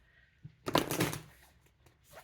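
Moonology oracle cards being shuffled, a short close papery riffle and rustle lasting about a second, with a few softer handling sounds after it.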